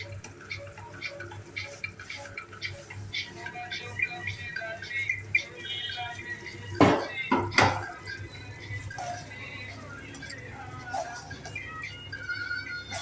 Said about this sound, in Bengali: নেড়ে দেওয়া হচ্ছে মশলার সঙ্গে